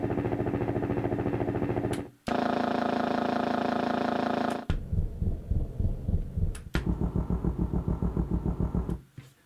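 Helicopter sound effect from a BlackStar Carry-On 88-key folding digital piano, a buzzy mechanical drone built from rapid rotor-like pulses, played in several short bursts with abrupt cutoffs and changes in pitch and speed.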